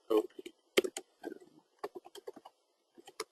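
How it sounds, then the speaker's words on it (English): Computer keyboard typing comes as quick irregular bursts of close, crisp key clicks with brief pauses between words. "I'll just type it out"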